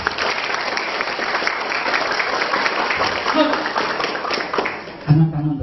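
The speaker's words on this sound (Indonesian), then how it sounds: "tunjukkan spirit para guru dengan tepuk tangan penuh berkah untuk Nusantara" Applause from an audience of religious school teachers at a motivational event, sustained dense clapping throughout, loud and close, with a brief louder burst near the end.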